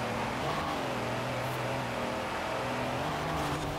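Steady droning engine of a truck with a 2400 PS diesel engine in Forza Horizon 4, a continuous low rumble with a constant tone, heard alone with no talk.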